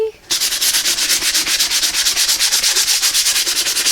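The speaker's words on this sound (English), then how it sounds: "So just keep sanding it away." Sandpaper rubs paint off a stenciled wooden sign in fast, steady back-and-forth strokes. The sound is close and loud and continues alone.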